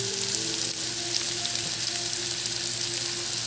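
Sautéed bitter gourd (ampalaya) in a pan being stirred, giving a constant bright sizzling hiss with faint soft scrapes, close and even throughout.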